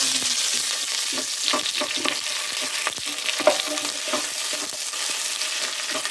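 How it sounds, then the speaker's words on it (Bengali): Chopped onion frying in a pan for a quick biryani gives a steady, close sizzle with scattered scrapes and clinks of stirring throughout, and no voices. "আমি এখন পেঁয়াজ কুচি দিয়ে দিচ্ছি পেঁয়াজ দিয়ে ভালো"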